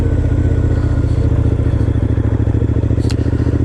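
A Triumph Scrambler 900 motorcycle idles or putts along steadily close by, its engine and exhaust giving a low, even, throbbing pulse throughout, with a brief faint clatter near the end.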